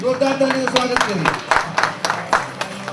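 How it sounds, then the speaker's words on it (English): Applause for an award winner at the Rajiv Gandhi Global Excellence Award ceremony, a sparse, fairly close round of separate handclaps from a modest audience, with a voice carrying over the start. "So big round of applause for him."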